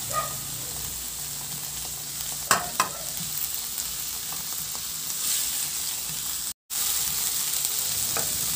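Chopped onion and tomato fry in a hot pan, giving a steady, even sizzle with a couple of sharp clacks partway through and a brief cutout near the end.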